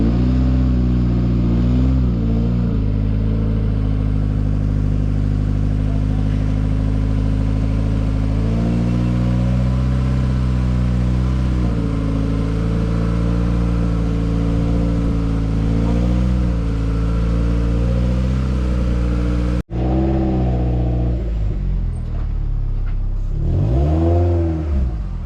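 A Toyota MR2's engine runs steadily on very little fuel, a loud close drone with slow swells in pitch, cutting out briefly near the end before rumbling back up with a couple of revs.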